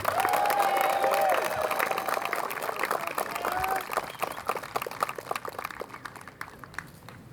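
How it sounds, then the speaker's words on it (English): Audience applause and cheering at a disc golf match play championship, a dense steady clapping crowd that gradually thins into scattered claps, with a whistle-like tone early on. "Please give a warm round of applause to Calvin Heimburg."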